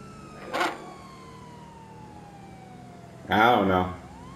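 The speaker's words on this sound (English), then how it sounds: "Hey, cut the sirens on." In Grand Theft Auto V, a police car siren winds down slowly as a faint falling wail, with short bursts of talk near the start and end.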